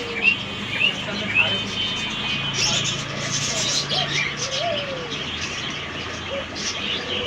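Small quail sold as king quail at a bird shop give repeated chirps and soft coos, with other birds calling around them in the busy market.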